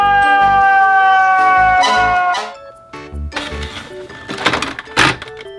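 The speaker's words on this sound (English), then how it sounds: "Red Fire Engine." A red toy fire engine plays its electronic siren, a bright wavering two-tone wail loud and close at the start, then giving way to clicks and rattling as the toy is handled.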